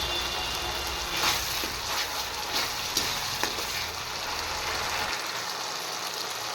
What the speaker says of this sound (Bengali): এবার এটা একটু আমি ফ্রাই করে নেব